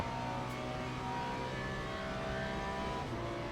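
Race car engine from the Le Mans Ultimate racing game, a steady sustained drone at constant loud level with harmonic whine, holding speed down a straight in slipstream with no audible talk.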